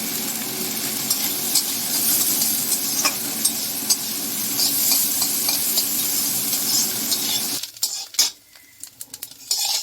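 Carrots and beans stir-fry in a hot pan with a constant loud sizzle and the scrape of a utensil stirring, before the frying cuts off near the end, leaving scattered clinks and taps.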